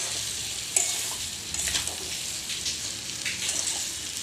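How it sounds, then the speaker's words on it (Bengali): Amla pickle being stirred in a pan over medium-low heat, a soft hissing sizzle with a few gentle scrapes and taps of the spoon, close and fairly quiet. "এবারে গ্যাসটা জ্বেলে মিডিয়াম টু লো আঁচে আস্তে আস্তে নাড়তে থাকবো।"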